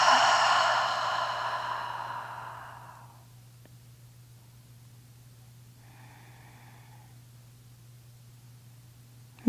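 A long, breathy exhale through an open mouth during a vinyasa yoga flow, close and audible, fading out after about three seconds. A fainter breath follows, all over a quiet steady hum.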